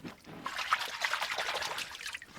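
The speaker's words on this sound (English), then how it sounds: "look what we're standing in. Flowing water" Shallow water flows steadily beneath a bridge, a continuous trickling, splashing rush close by that fills the whole stretch without pause.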